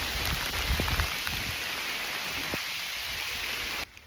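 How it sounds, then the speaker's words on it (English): Heavy rain pours steadily in a dense, hissing wash on an outdoor trail in Oklahoma, with occasional louder drops and splashes close by, until it cuts off at the end. "Well, it's raining pretty hard."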